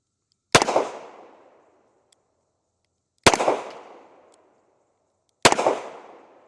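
Three sharp, loud gunshots from a Smith & Wesson 640 revolver firing .38 Special rounds, each a hard crack with a ringing decay, spaced roughly two to three seconds apart with no talking.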